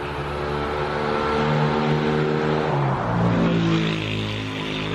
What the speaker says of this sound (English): yeah, traffic is pretty loud.